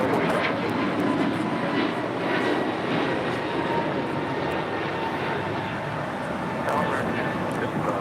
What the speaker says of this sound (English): 1245 taking off to Philly on an A321 Neo